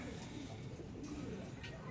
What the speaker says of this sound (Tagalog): Nakabalik na yung huling ibon na hinahantay natin.